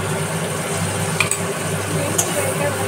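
Spice paste added to fried onions sizzles steadily in a pan, with a few sharp scrapes of stirring over the constant close frying hiss.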